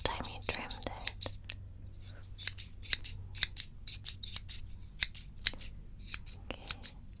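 Sharp scissor snips in an ASMR barber shop haircut with plastic toys, close and crisp, falling in quick irregular bursts and single clicks, with soft whispering in between.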